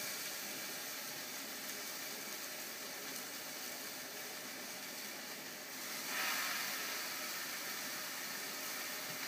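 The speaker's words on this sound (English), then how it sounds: "Preheat your frying pan with a couple of sprays of your fry light and just pop them in like that" Steady broadband sizzling hiss of meat kebabs frying in a preheated pan sprayed with low-calorie cooking spray, continuous throughout, swelling slightly louder near the end.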